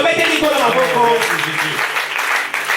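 A church congregation applauds and acclaims together during a service, with steady clapping blended with raised voices that stays loud and dense throughout.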